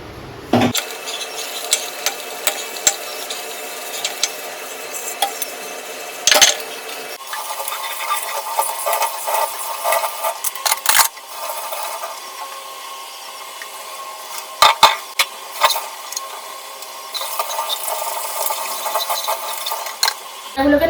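Dishes scrubbed and washed in water in a home kitchen, with repeated clinks, clatters and scraping scrubbing strokes close by, irregular bursts throughout.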